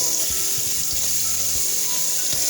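Tap water runs steadily and close over mushrooms in a strainer for rinsing, a continuous bright hiss with light splashing and no pauses.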